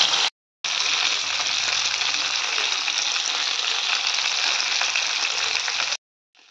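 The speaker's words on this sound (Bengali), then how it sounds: "এই যে এখন হচ্ছে মাছ ভাজা।" Large fish pieces frying in hot oil in a wok, a dense continuous sizzle, loud and close, broken by brief silent gaps at the start and end.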